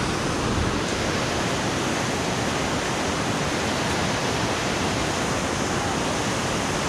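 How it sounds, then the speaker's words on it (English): A river rushes steadily beneath a footbridge near Skagway, Alaska, a dense continuous broadband wash of flowing water, loud and close, with no voices. "here's the river that we're walking over"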